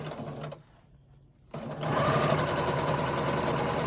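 A sewing machine runs a straight stitch through stiff material, a steady close mechanical whir that pauses briefly and then resumes at a faster, louder, continuous run.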